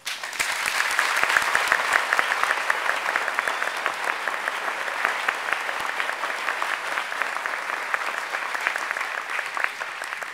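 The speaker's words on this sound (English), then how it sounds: "Give these guys a round of applause." Sustained audience applause at a military ceremony honoring named PFCs, steady dense clapping from a large crowd lasting throughout, fairly loud and even with no talk over it.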